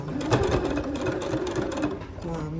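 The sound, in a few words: sewing machine stitching a seam on a fabric bread basket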